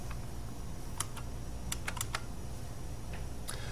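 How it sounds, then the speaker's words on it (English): Typing on a computer keyboard to enter units into an Excel spreadsheet: a handful of quiet, scattered key taps over a steady low background hum, with no voices. "now type in the units here, kilojoules per kilogram per degree K."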